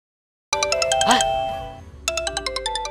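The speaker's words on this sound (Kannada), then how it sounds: "ಇದೇನಪ್ಪ ಇದು, ಇವಾಗಲೇ ಫೋನ್ ಬರ್ತಾ ಇದೆ." A mobile phone ringtone plays a bright, chiming melodic phrase, then a second burst of rapid repeated ding-like notes, loud and close in an indoor television-drama scene.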